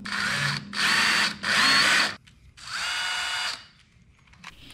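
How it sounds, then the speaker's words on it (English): A power drill whirs in three short bursts, then a longer fourth run, drilling a hole with a 5/64 bit in the end of a wooden marking gauge beam, close and loud, with brief pauses between and no talking. "I drill a hole at the end of the beam with an undersized drill bit."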